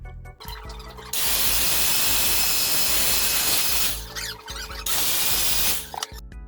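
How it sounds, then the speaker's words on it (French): An electric hand mixer whips cream with powdered sugar for strawberry shortcake, a loud steady whirring in two long bursts separated by a short pause. "en utilisant un batteur électrique, vous allez fouetter la crème jusqu'à temps que ça devienne la crème fouettée"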